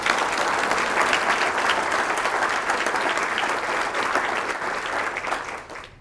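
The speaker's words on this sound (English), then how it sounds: "I want to give the folks in this room a round of applause." An audience at a state education address fills a hall with sustained, dense applause, loud and steady throughout before tapering off at the very end, with no speech over it.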